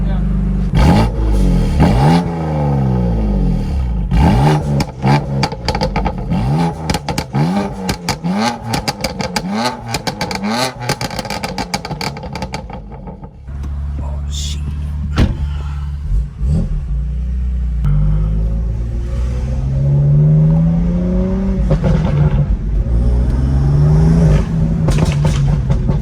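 A BMW M2 Competition fitted with VRSF downpipes and a burble tune revs hard up close, repeated rising and falling blips with crackling pops, then a steadier lower idle and rev toward the end.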